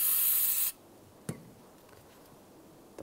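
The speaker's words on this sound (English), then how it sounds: "you can spray down in here with brake parts cleaner." Brake parts cleaner sprayed from an aerosol can onto front brake components of a 2013-2016 Dodge Dart, a loud steady hiss lasting under a second that cuts off abruptly, followed by a faint click and near-silence.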